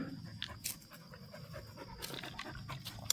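Dogs pant in quick, steady rhythmic breaths close by, a continuous huffing that runs throughout with no talking.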